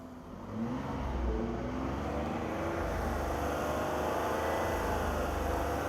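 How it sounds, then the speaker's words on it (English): A midshipman's car engine is started and revved up a little, holding a steady, close idle-to-rev drone with a slight rise in pitch and no talk. "And fire that thing up. All right. So go ahead and rev it up a little bit."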